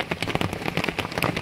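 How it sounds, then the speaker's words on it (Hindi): Heavy rain pours down in a village, a dense, loud patter of drops crackling close by on surfaces without break. "एते मात्रा रे वर्षा होउची जे वर्षा होउची जा नहीं कहना प्रबल वर्षा"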